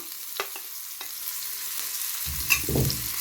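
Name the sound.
onions sautéing in a pan with browned meat and ghee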